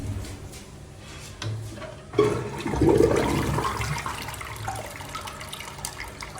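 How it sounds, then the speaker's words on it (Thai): A toilet flushes in a house under inspection, a surge of rushing water followed by the bowl refilling, close and fairly loud, gurgling on steadily for several seconds with no talking. "กดมาตอนนี้กดไปกดมา น้ำก็จะเต็ม เต็มชักโครกแล้วครับ"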